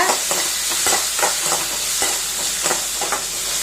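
Onion and chana dal frying in oil, loud close sizzling with rhythmic stirring scrapes of a spoon against the pan every half second or so, no talk.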